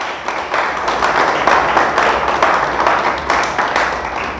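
A church congregation clapping loudly together, a dense sustained wave of applause without speech.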